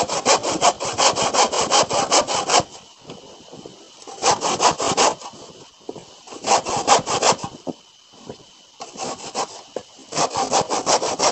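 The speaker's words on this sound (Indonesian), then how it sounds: "Ini kita gergaji supaya sedikit cepat dan ringan" A hand saw rasps through wood in rhythmic back-and-forth strokes, loud and close, working in bursts separated by short pauses.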